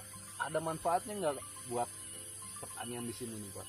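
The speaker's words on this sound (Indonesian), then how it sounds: "Nah, ini ya suara tonggeret ya namanya ya." A thin, continuous high buzz of cicadas drones steadily in the background at an agricultural area in Sumedang while two men hold a conversation over it.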